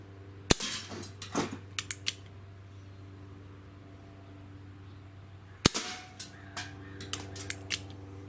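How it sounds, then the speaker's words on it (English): Remington 1875 air pistol firing pellets: two sharp cracks several seconds apart, each trailed by clicking and mechanical handling noises, over a steady low hum in a quiet room. "So let's do 5 shots with this and see if there's any improvement with the pellets over the BBs."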